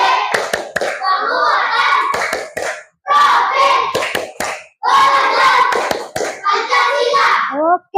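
Schoolchildren in a classroom clap together in quick rhythmic bursts, several patterned rounds separated by short pauses, loud and close.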